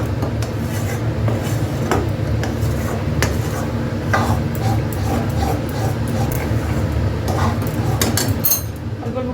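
A spoon scrapes and clinks repeatedly against a pan as a dilkhush mixture is stirred, over a loud, dense, continuous rustling bed.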